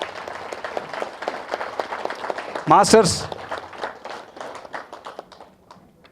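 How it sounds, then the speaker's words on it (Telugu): Applause and scattered clapping from an audience at a live stage event, a crowd of taps running under a loud speaking voice, with a brief louder burst near the middle. "దానికి గట్టిగా చప్పట్లు కొడదాం"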